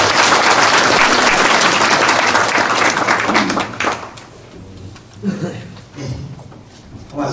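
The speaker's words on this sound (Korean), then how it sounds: "그래도 한 번 더 박수 크게 보내주시면 감사합니다." Audience at a chamber of commerce breakfast meeting breaking into loud sustained applause that dies away after a few seconds, followed by scattered faint claps and room noise.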